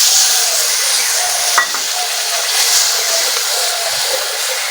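Chili powder and ground spices are stirred in a frying pan for a vegetarian paneer dish, with a loud continuous sizzle and hiss running throughout and one brief scrape or knock partway through.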